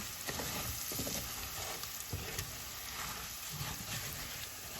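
Rice for Mexican rice browning in a frying pan gives a soft, steady sizzle with faint stirring scrapes, fairly quiet and close, no voices.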